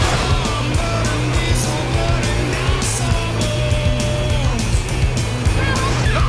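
A truck drives in GTA San Andreas, with a continuous engine drone and road noise, loud and steady throughout, while occasional tire noise and faint talk sit underneath.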